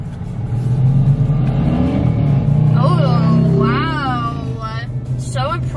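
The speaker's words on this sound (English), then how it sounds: "Mr. Hotshot over here wants to flex his motorcycle" A motorcycle speeding past on a road, its engine rising in a loud revving roar that builds, peaks mid-clip and fades, with a person talking over it near the end.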